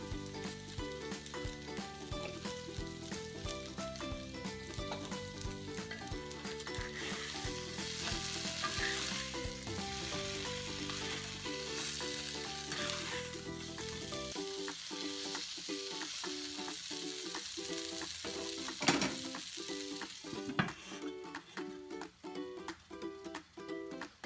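Masala spice powders sizzle and fry steadily in a pan for arvi, a continuous bright crackle under tonal background music, with a couple of sharper clatters near the end.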